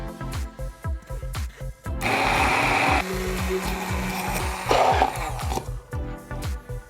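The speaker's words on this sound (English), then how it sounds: "Gonna use my trusty immersion blender to make the beans into a paste." Immersion blender pureeing cooked beans into a paste, a steady whirring grind for a few seconds that rises and dips in pitch as the blade works, between quieter kitchen clatter.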